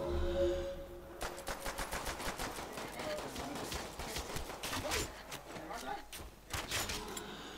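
Rapid bursts of gunfire in Call of Duty zombies mode crackle in quick succession, loud and sustained, with brief pauses between volleys.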